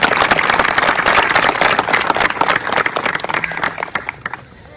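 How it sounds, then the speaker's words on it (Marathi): A crowd at a celebration for students who joined government services applauds a woman, loud dense clapping from many hands that thins out and fades toward the end. "म्हणून त्यासाठी एकदा जोरदार टाळ्या"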